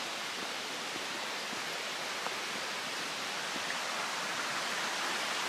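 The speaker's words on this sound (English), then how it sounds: "There's a brook over here, or a creek." A brook or creek near Witch's Castle in Portland, Oregon, flows in a steady, continuous rushing wash with no breaks, moderately loud and without any voices.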